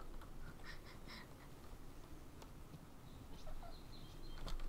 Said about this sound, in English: Oh, hello, Mr. Seagull.